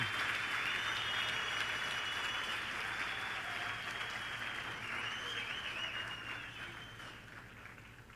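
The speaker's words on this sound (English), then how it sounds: "Please can we give a round of applause to Mr. Simpiwe Thobela." An audience applauds a speaker walking onto the stage at a youth empowerment event. The clapping is steady and full, and it slowly thins and fades toward the end.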